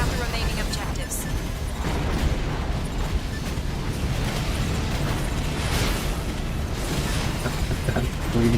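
Dense, continuous explosive rumbling and bursts as long-range cannons are destroyed in Armored Core 4, loud and sustained with mechanical clatter and no clear pauses, with talk mixed in.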